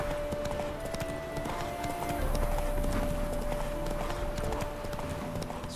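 Geralt's horse Roach gallops in The Witcher 3, with rapid, continuous hoofbeats close by under a dense bed of game ambience and music.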